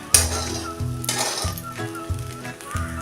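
Sabudana khichdi with boiled potatoes stir-fried in a pan, with a steady close sizzle broken by repeated metallic clinks and scrapes of a spoon against the pan.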